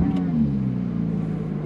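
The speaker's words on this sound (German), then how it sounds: "Ich finde, Porsche hat immer so einen schönen dreckigen Sound, ne?" A Porsche GT3 RS engine runs with a low, rough, droning tone, heard steadily from inside the car for a short moment.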